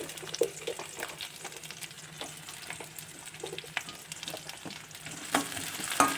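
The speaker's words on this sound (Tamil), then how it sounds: "நல்லா வெங்காயம் வதக்கணும்." Onions, garlic, dried red chillies and tempered mustard seeds, fenugreek and urad dal sauté in a pan with a quiet, continuous sizzle. A spoon stirs and scrapes softly throughout.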